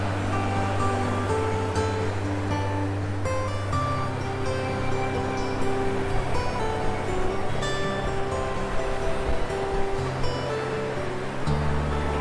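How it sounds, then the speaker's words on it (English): Ocean surf rolls in at Naples Pier as a continuous broadband wash of breaking waves, with a low steady hum from something mechanical nearby. "The surf is up here"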